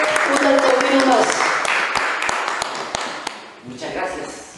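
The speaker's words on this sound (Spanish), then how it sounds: "fuerte el aplauso para don Nelson" Lecture audience in Chiloé applauding a speaker, a dense burst of clapping that gradually thins and fades over a few seconds, with scattered louder claps near the end.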